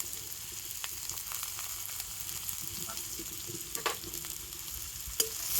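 Chopped onion and green chillies frying in oil in a pan, a steady close crackling sizzle with scattered pops and light scraping, no voices.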